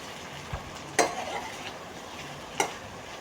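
Butter sizzles quietly and steadily in a pan while pasta is cooked, with a few sharp clinks of stirring against the pan standing out.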